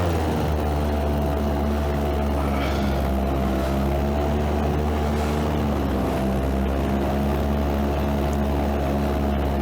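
A paramotor engine in flight gives a loud, steady droning hum with a propeller buzz that holds constant throughout, with no voices.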